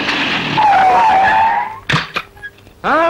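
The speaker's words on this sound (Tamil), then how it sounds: "ஏதோ வண்டி வருது" A vehicle arrives and skids to a stop with a loud, rising and falling tire squeal, followed by a few sharp thuds, then a brief voice.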